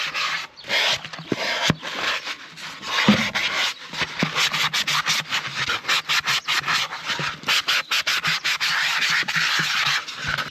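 Sandpaper rubs over the hard, dry shell of a birdhouse gourd, a close, raspy scratching in quick uneven back-and-forth strokes with brief pauses between passes.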